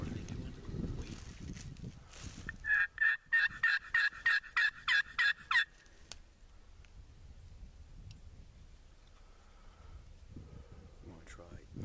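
A wild turkey gobbles out in an open field, a rapid string of about nine loud, clipped pulses in quick succession, with wind and soft outdoor noise around it and quiet voices before and after.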